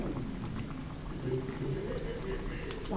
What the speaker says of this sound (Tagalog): Ayan lang muna natin siya dyan, makuluan yung ating malunggay.